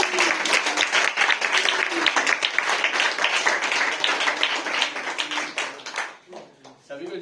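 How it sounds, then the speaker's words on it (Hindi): Big applause erupts from a church congregation welcoming preacher Ajit Bhosale, dense steady clapping that runs for several seconds before thinning out near the end. "ल हामी एकदमै ठुलो तालीले हाम्रो अजित भोसलेजीलाई हामी स्वागत"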